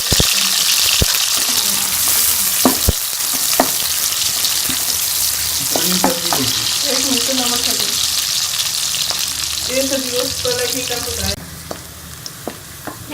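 Chicken pieces frying with browned onions in a karahi, a loud continuous sizzle with scattered stirring scrapes and clinks, the hiss dropping somewhat toward the end.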